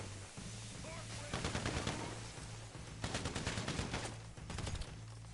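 Mark II carbine rifle fired in GTA, bursts of rapid gunfire in three clusters over a steady low game hum, fairly loud and close.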